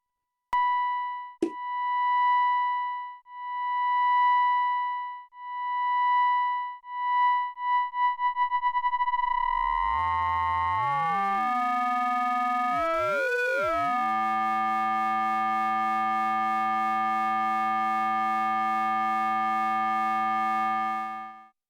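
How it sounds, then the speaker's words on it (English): A sine wave ring modulated through a modular synthesizer VCA patch, beginning as a pulsing pure tone that speeds into a steady drone, then splitting into sliding, crossing metallic tones before settling into a dense, buzzing chord. "And there's our ring modulation sound."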